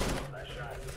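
Gunfire rattles in a CS:GO match as a brief, dense burst of shots, with a player's voice talking over it.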